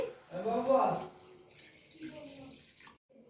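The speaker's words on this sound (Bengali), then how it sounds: "আমি একটু জল দিয়ে দিচ্ছি" Water is poured into a pan of doi ilish, a yogurt hilsa curry, in a short splashing burst near the start, followed by a quiet stretch where a person speaks.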